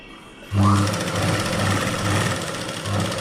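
A sewing machine stitches a 36-inch blouse. It starts abruptly and runs as a loud, close, rapid mechanical whir with a regular pulsing rhythm, alone and without talk.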